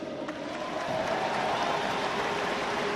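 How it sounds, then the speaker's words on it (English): Crowd applause at the 2010 All-Ireland Football Final between Cork and Down, a steady dense clapping wash from many hands, swelling slightly and holding strong throughout. "Special round of applause to Mick."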